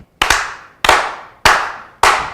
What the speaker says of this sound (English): can we begin by slow clapping this brother in?